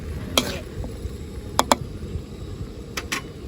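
A spoon stirs king bolete mushrooms stir-fried in oyster sauce and light soy sauce in a pan, giving a few sharp scraping clinks in pairs over a steady low sizzle.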